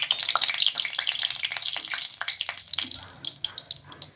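Green chilies and two bay leaves frying in hot oil, a crackling sizzle with dense popping and spattering that thins into scattered crackles toward the end, with no talk.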